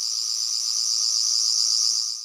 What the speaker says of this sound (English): the screwdriver will begin to emit one of 2 sound effects: a low-pitched, slow buzz,